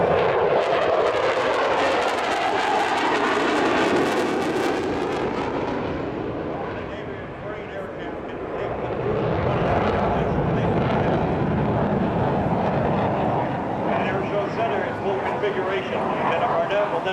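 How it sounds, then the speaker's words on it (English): An F/A-18 fighter jet roars past at an air show with a loud broadband engine blast that swells, dips briefly and returns, while an announcer talks over it. "approaching from your left, you saw the airplane do a high G turn"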